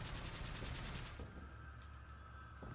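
Rapid gunfire rattles out in Resident Evil 4 as a steady burst of shots in the first second, followed by a few scattered quieter reports over a constant game backdrop.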